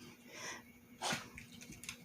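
A dog sniffs and snuffles close by after eating homemade dog treats, with short nasal puffs and one louder snort in the middle, all fairly quiet.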